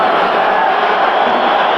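A loud, dense roar from a packed football stadium crowd at a 1992 Cowboys–Giants game in New York, a steady wash of cheering with no breaks throughout.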